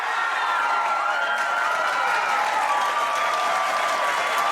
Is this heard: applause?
yes